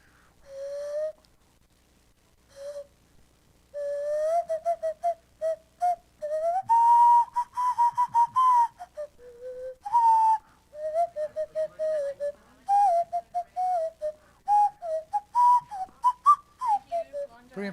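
A nose whistle is played live at an open mic, carrying a clear, pure-toned melody with slides and short repeated notes. It runs for well over a dozen seconds, close and prominent, with no talking.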